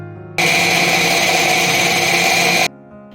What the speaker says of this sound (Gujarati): એને મિક્સરમાં ગ્રાઇન્ડ કરી નાખવાનું